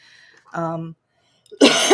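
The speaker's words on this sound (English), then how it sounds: "excuse me, I have to clear my throat." A short, harsh throat clearing bursts out loudly after a brief murmur of speech and a moment of silence.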